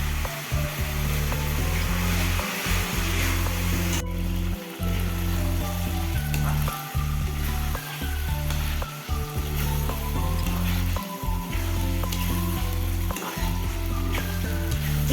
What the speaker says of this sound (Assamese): এতিয়া মাংসটো বহাই দিছোঁ, অলপমান ভাজি লওক